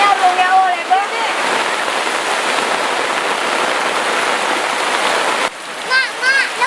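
Steady rain pours down in a dense, even hiss that runs nearly unbroken, with voices talking briefly at the start and again near the end.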